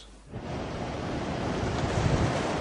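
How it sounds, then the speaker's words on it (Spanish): Ocean waves wash over a small grey World War I submarine as it dives beneath the surface, a continuous rushing surge of surf and wind that rises from near silence and stays loud throughout. "este barquito gris que acaba de sumergirse bajo las olas"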